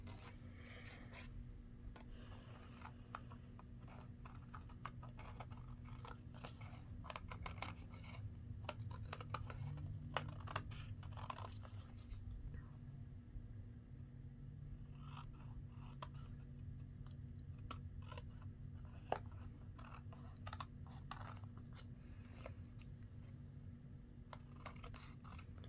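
Scissors snipping and trimming the edges of patchwork fabric pockets, a quiet, close series of irregular crisp cuts and rustles over a low steady hum, with no speech.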